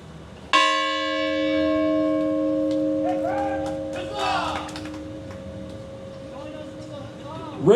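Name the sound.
bell rung for the original states at a 4th of July celebration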